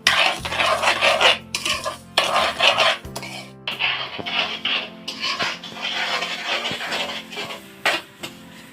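Sesame candy sugar melting in a pan, stirred constantly toward caramel on high heat: repeated scraping and clinking of a utensil against the pan in bursts, close and fairly loud, with no talking.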